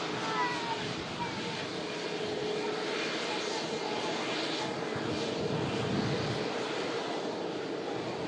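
Passenger jet aircraft climbing out at Manchester Airport, a steady broad engine roar that stays fairly even and moderately distant across the whole stretch, with no voices over it.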